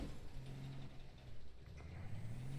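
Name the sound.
struggling car engine in a video game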